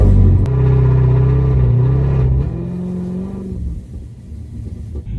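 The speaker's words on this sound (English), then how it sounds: "Let's see if the car bogs again." A Dodge Demon 170 engine on a drag car's trans brake gives a loud, close rumble as it holds a steady rev, then wavers and sags lower as it bogs, leaving a rough idle-like growl.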